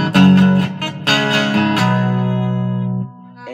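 Guitar plays chords of a song, a few strummed chords ringing close and clear, the last one sustained before fading, with no talk.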